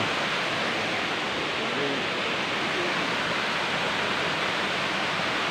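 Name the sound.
Thalaiyuthu waterfall flowing down from the mountain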